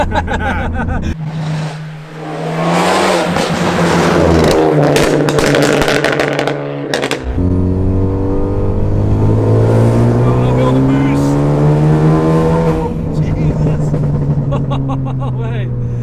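A loud straight-piped, methanol-injected 350 bhp Ford Focus ST roars close by with a deep, sustained exhaust drone that rises and falls as the engine revs, briefly dipping before surging again.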